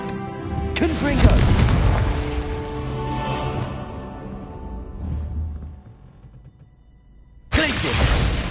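A fiery Confringo spell in Hogwarts Legacy bursts with a deep boom and crackling debris. A second blast hits near the end. A voice calls out spell names around the explosions, and a quieter lull falls between them.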